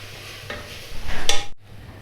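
Beef biryani masala is stirred in a pan, a short soft scraping and sizzle with a brief bright clink of the spoon, ending in an abrupt cut to near silence.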